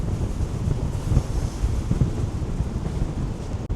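Steady wind buffets the microphone at a seaside amusement pier beside a roller coaster, a continuous low roar with gusty swells and a faint wash of surf beneath, no voices.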